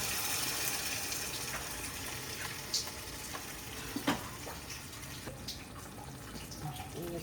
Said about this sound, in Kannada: ಇದಕ್ಕೆ ಎಷ್ಟು ಬೇಕಷ್ಟು ನೀರು ಹಾಕ್ತೀನಿ